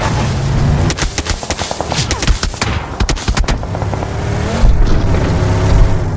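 Rapid bursts of automatic gunfire crackle in PUBG Mobile, dense clustered shots from about one to three seconds, then scattered cracks over a steady engine drone, with a heavier thump near the end.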